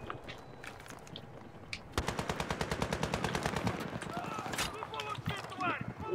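Automatic gunfire in Battlefield 3, a fast steady stream of rounds kicking in partway through and running several seconds at moderate distance, with voices talking over it.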